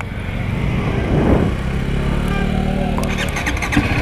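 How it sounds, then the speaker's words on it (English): A TVS Apache RR310 motorcycle fires up with a single press of the starter, its engine catching quickly and settling into a steady, fairly loud idle close by. "one touch and the bike starts"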